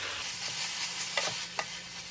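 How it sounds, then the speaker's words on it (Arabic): Shawarma meat with onion and tomato being stirred in a pan, a steady soft sizzle with a couple of brief scraping knocks from the spoon, close and fairly quiet, with no talking. "بعد كده هنزل عليها بالطماطم واقلب"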